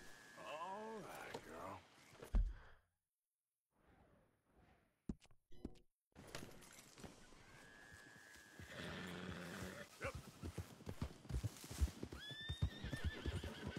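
Horse whinnies and clip-clopping hooves in Red Dead Redemption 2: a loud neigh opens, then a quiet gap, followed by steady hoofbeats and a second whinny near the end.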